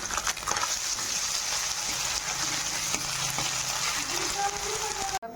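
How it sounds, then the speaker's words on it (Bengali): Fish frying in oil, a soft continuous sizzle and bubbling heard close but fairly quiet, with faint handling noises. "আবার বাকি মাছগুলো ভেজে নেব ওই তেলেই"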